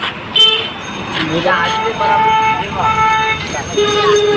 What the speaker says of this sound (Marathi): वाहनं खूप वाहतात त्या रस्त्याने गाड्या